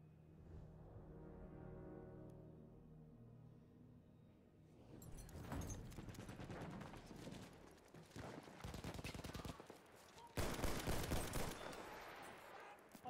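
Video game gunfire rattles in bursts during a trench battle: quiet ambience at first, then loud, dense volleys of rifle and machine-gun fire from about five seconds on, with the heaviest bursts near the end.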